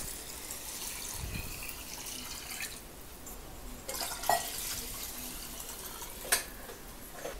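Homemade coconut milk, ground with water and strained, poured into a pot of rice, giving a soft, steady liquid trickle with a few faint drips and light clinks, fairly quiet and with no talking.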